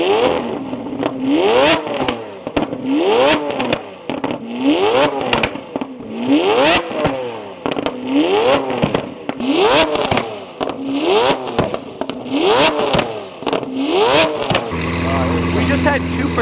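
A Lamborghini Aventador revs again and again outdoors in a loud, rhythmic series of rising bursts, roughly one per second, with crackling pops between them and a steadier engine tone at the end.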